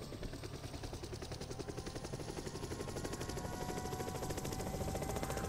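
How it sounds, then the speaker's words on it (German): Helicopter in the video game DayZ, a loud, steady rotor thump with fast rhythmic chopping and a rising engine whine, close and continuous throughout. "Was wippt der Heli so?"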